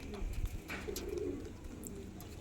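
Pigeons coo softly and fairly faintly, a low throaty call rising briefly amid quiet background noise and faint voices.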